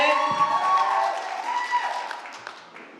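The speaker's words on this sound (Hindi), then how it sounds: "जोरदार तालियां एक बार फिर से" Applause from a crowd at an NSUI event in Chamba, called for by the stage host, loud at first and then slowly fading over a few seconds, with music-like tones mixed in early on.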